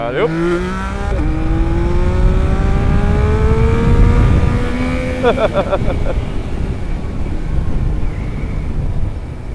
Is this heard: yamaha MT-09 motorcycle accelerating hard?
yes